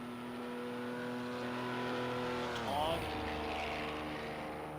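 Race car engine screaming down the Mulsanne straight in a Le Mans 24 Hours racing video game, a steady high droning whine that drops in pitch on a gear change, with talk over it.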